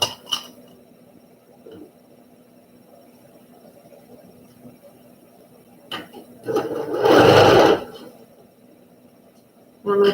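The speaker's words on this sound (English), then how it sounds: "And I'm going to sew it down the other side." A sewing machine runs in a short burst of stitching on a quilt block, heard close and steady for about a second near the end, after quieter handling clicks and taps on the table.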